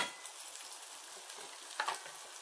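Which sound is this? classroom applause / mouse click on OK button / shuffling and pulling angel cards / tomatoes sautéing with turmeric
tomatoes sautéing with turmeric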